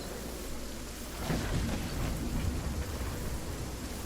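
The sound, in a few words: thunderstorm in the video game Fortnite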